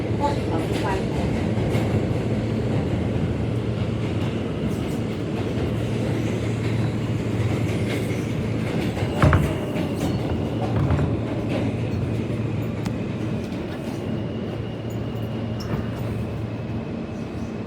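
New York subway E trains between Forest Hills and Jamaica–Van Wyck, one pulling out while another arrives, a continuous heavy rumble of wheels and cars with faint clacks and brief screeches, under station voices.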